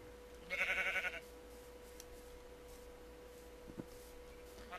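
A sheep in the Minecraft video game lets out one loud, wavering bleat near the start, followed by quieter game sounds and faint background tones with no speech.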